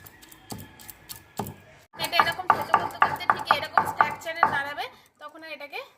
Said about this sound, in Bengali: দেখুন আমি কিরম করে থেতো করছি